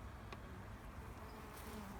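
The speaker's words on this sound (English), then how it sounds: "there's just a hum in the air when you see this many bees" Quiet, steady hum of many bees buzzing around about fifty open flowers in a summer garden, a continuous drone with no voices.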